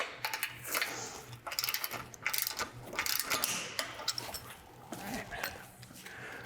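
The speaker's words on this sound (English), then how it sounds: "Using 9/16 socket and wrench, we'll just go around the lift and tighten them down." A ratchet wrench fitted with a 9/16 socket tightens bolts on a lift, heard as close, rapid clicking bursts that repeat in short irregular runs, with faint talk in the background.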